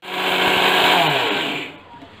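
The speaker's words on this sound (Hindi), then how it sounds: "पहले हम ये सारे मसाले पीस लेते हैं मिक्सी के जार में डाल करके" A mixer grinder grinding spices whirs loudly for under two seconds, its motor roaring steadily before winding down.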